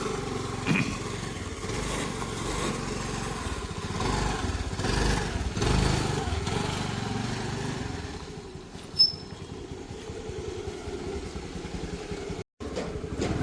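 A motorcycle rides along a road near Mudigere, its engine giving a steady, loud drone with wind rumble that eases slightly partway through, broken by one brief sharp click.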